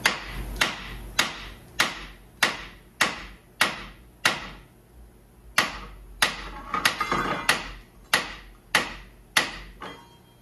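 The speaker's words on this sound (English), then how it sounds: "I can give it some hammer blows" A hammer strikes about sixteen sharp blows in a steady rhythm, loud and close, each with a quick ringing decay, and a brief scraping pause midway before the pounding resumes.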